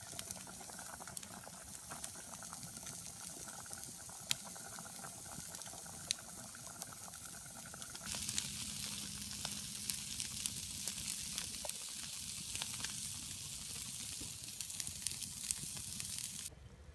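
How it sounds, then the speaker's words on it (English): Steaks sizzle over a camp fire at a woodland hammock camp with potatoes cooking nearby, a soft bubbling hiss that grows louder and fuller halfway through and carries on steadily without talk. "Steaks just went on."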